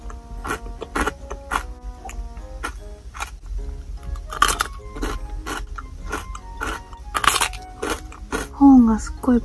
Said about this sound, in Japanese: コーンがすっごいパリパリしてます。